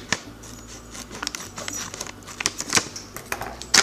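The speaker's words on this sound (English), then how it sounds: "So I'm going to use my kitchen scissors." Kitchen scissors snipping open the sealed bottom of an organic blue popcorn bag, a series of short crisp cuts and crinkles of the bag, close and fairly quiet.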